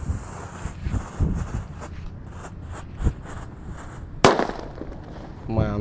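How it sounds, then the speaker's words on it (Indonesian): A disco happy flower firecracker is lit and goes off outdoors: scattered crackles and pops build to one sharp loud burst near the end, followed by a whistling fizz, with a voice in the background. "Selanjutnya di sini ada disco happy flower yang Thor. Kita nyalakan teman-teman. Sudah menyala. Kita dengarkan suaranya."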